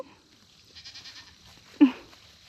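A Nigerian Dwarf goat on a farm gives a loud, sharp bleat near the end, after a stretch of fainter, wavering calls from goats in the background on a quiet morning.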